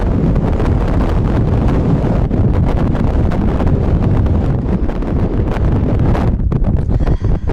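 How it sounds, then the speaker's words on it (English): Loud, continuous wind buffeting the microphone at Joshua Tree National Park, a heavy roaring rumble with gusty fluctuations that never lets up. "It's really windy."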